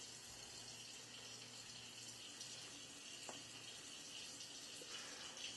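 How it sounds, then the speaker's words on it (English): A kitchen sink tap is left running, a steady, faint, even hiss of water flowing throughout with no change. "I've got to leave a little water running."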